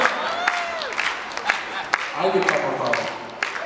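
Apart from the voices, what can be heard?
audience clapping along to yodel medley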